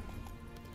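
Roach, the horse in The Witcher 3, gallops in a brief burst of quick hoofbeats over a steady low rumble, fairly quiet.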